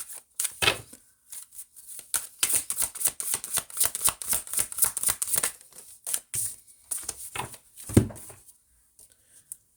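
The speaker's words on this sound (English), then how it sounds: "I'm going to pull a few cards and see what messages you need to hear the most" Tarot cards are shuffled in quick riffling bursts of crisp flicking and slapping, then a few separate cards are pulled and laid down with soft snaps, close and dry, with short pauses between.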